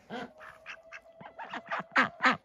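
A duck quacks in a quick run of about eight nasal calls that grow louder toward the end, close by and alone.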